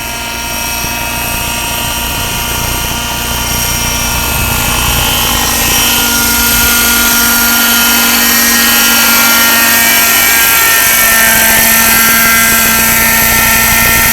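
A radio-controlled model helicopter in forward flight, a ModelSport MS0305, drones with a continuous high-pitched rotor and motor whine that stays loud and steady throughout.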